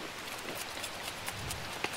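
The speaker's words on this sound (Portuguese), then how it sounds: "Olha a chuva." Light rain hisses softly and evenly over an Amazon riverside, faint and steady with a few small drips, no voices.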